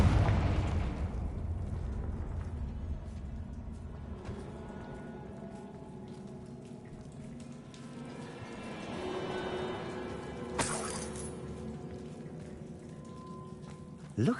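A Confringo fire spell from Hogwarts Legacy bursts loudly at the start, then fades into a low rumbling crackle with scattered pops and a sharp hissing flare near the end.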